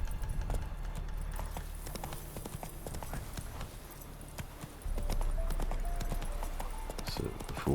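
Hooves of the horse in The Witcher 3 game galloping in a steady, rapid clip-clop rhythm, close and continuous, over a low ambient rumble.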